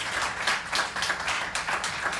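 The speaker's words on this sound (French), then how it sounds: "On peut l'applaudir bien fort" A live audience claps loudly and steadily for a performer climbing onto the stage during the opening act of a French show in July 2022, with dense overlapping hand claps throughout.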